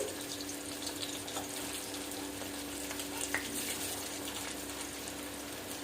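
Chili chicken pieces fry in oil over low heat, a soft, even sizzle with a faint scrape or two as they are turned, quiet and continuous with no talking.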